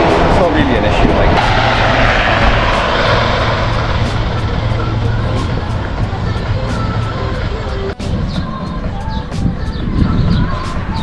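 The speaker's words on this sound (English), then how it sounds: "the planes are coming across" Low-flying airplane over Kalamaki on approach to Zante airport, a loud, sustained engine roar that slowly fades, with people talking underneath.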